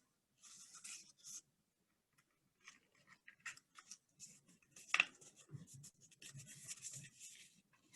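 Sheets of paper being folded and creased by hand during a grade 3-4 paper-folding lesson: faint, intermittent rustles, rubs and crisp creasing scrapes in short bursts separated by quiet pauses.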